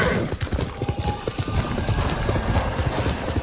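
Rapid rhythmic hoofbeats of a galloping horse in Ghost of Tsushima, loud and steady, with a whinny-like tone mixed in and background game noise.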